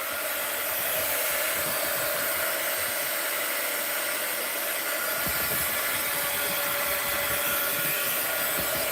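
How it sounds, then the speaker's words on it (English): A heat gun blows steadily to dry a page in an art journal, a continuous broadband whoosh that stays loud and even from start to finish, with no voices. "Now, heat gun alert."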